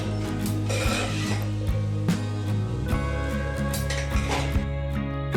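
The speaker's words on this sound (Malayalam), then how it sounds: "നമുക്ക് വേവിച്ച് വെച്ച കക്കാർച്ചി ഇട്ട് കൊടുക്കാം" Cooked clam meat is tossed and mixed in a pan for a Kerala clam roast, with repeated scraping and rasping strokes and occasional clinks of a utensil against the metal, close and steady.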